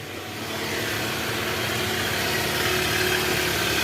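A Toyota Alphard engine idling smoothly in neutral, heard from the side as a steady, even hum with no roughness, close and continuous.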